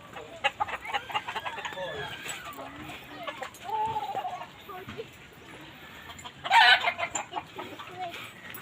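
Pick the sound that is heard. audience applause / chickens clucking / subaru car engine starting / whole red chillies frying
chickens clucking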